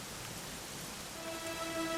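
Steady rain falling on surfaces in the video game Dragon Quest XI, a continuous soft hiss of drops, with faint tonal musical notes entering partway through.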